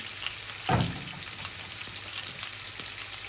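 Whole spices and bay leaves hit hot oil for tempering in a Bengali tilapia curry with cabbage and cauliflower, giving a sudden loud sizzle burst that settles into a steady low frying hiss.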